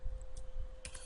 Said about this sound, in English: But when I type show protocol or show